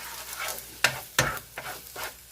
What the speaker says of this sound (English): I'm just going to cook the chorizo a little bit more